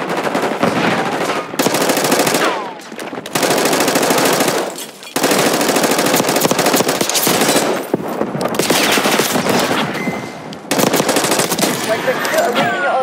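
Call of Duty: Black Ops 6 multiplayer gunfire on PC, long loud bursts of automatic weapons fire broken by short pauses, dense and close throughout the whole stretch.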